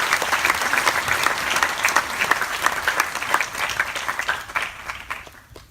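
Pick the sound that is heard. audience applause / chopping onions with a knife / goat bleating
audience applause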